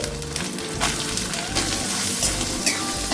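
Asafoetida and grated coconut stirred in hot oil make a continuous bright sizzle, with soft scraping and stirring sounds rising and falling close by.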